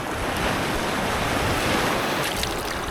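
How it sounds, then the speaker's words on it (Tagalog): Ocean surf roars continuously along the Real–Mauban coast, a dense wash of big breaking waves close by, with wind blowing across the microphone. "Lalaki ang mga alon, no?"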